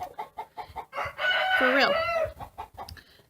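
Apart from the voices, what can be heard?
roosters and chickens clucking and crowing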